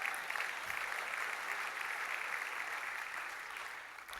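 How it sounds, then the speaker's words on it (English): During an artist talk by a photographer, a lecture audience breaks into sustained, fairly soft applause that holds steady and tapers slightly toward the end, with no talking over it. "I'm not sure why that deserves a round of applause."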